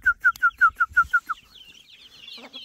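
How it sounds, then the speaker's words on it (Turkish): Roosters clucking: eight quick, evenly spaced calls in a tight rhythmic burst, followed by fainter, higher scratchy chatter in the background. "Bu da horozmuş arkadaşlar."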